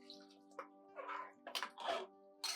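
Water from three tumblers of measure is poured into a pressure cooker holding basmati rice for peas pulao, making quiet splashing pours in short bursts with pauses between, close by over a steady low hum.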